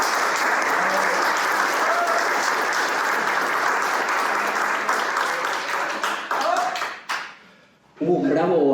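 Loud, sustained applause from an audience welcoming a guest speaker at a talk, dense clapping that tapers off, briefly drops away, then gives way to someone speaking.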